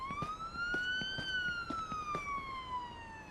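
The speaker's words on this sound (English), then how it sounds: "that siren is just going to" Police car siren from the Police Simulator: Patrol Officers video game, a loud steady wail sweeping slowly up and down in pitch, close and continuous for the whole stretch with faint rhythmic clicks beneath.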